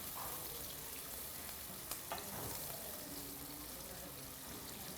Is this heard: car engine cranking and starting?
no